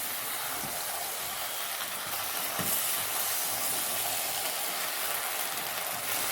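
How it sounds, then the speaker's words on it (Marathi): A soybean chilli mixture with finely chopped ginger is sautéed in a pan, giving a continuous close hissing sizzle that stays steady throughout with no talking. "सर्व मिश्रण चांगल्या प्रकारे परतून घ्यायचे आहे."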